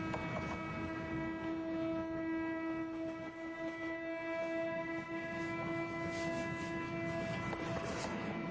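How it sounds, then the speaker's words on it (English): A train horn sounds a sustained multi-tone chord for the whole stretch over steady rumbling rail noise, the train drawing closer as the note holds loud and continuous. "please note how the research assistants hear the note as the train approaches"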